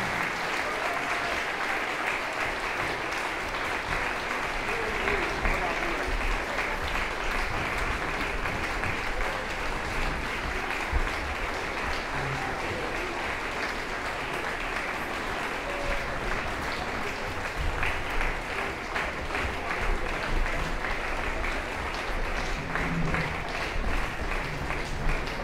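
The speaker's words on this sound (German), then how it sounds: "Einen großen Applaus für die Youngstars, die jetzt von der Bühne gehen." Sustained audience applause at a youth band concert, a dense, steady wall of clapping from a large crowd that carries on without a break.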